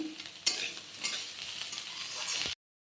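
Green chillies with spices frying in a pan for a banana-flower ghonto, a steady close sizzle with a few spatula scrapes before cutting off abruptly.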